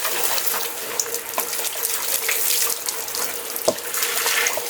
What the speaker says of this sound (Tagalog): Itong tubig na ito guys, bukal ito.